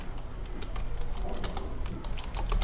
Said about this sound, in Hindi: मैं टेक्स्ट टाइप करता हूँ